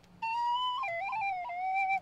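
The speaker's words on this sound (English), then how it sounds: "I picked up the penny whistle, Irish penny whistle." An Irish penny whistle plays a short clear phrase, a bright sustained tone sliding down and wavering between a few notes, close and alone.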